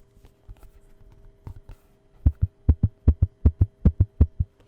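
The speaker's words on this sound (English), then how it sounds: "So you hear that heartbeat effect?" A domed pop-top Discmania MD disc golf disc is flexed repeatedly, giving a steady run of about ten soft, close thumps like a heartbeat after a few quieter taps.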